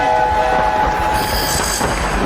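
A train rumbles and clatters along a station platform, steady and close, with a brief high tonal whine layered over the rolling noise for a couple of seconds.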